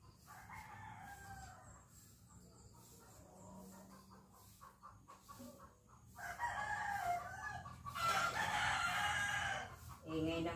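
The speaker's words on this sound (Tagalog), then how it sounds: "Ingay ng manok." Chickens cluck and cackle, quiet at first, then bursting into loud, agitated squawking up close.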